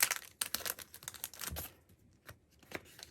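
Plastic wrapping around an album crinkles and tears in close, irregular bursts of rustling, fading to sparser rustles.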